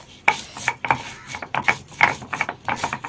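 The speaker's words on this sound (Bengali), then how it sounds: "দেবো একটু এর মধ্যে হলুদ আর দেবো সামান্য লবণ দিয়ে বেটে নেব" Fish masala of turmeric and salt being ground by hand on a grinding stone, giving repeated rasping, scraping strokes close by in an irregular rhythm, with no talk.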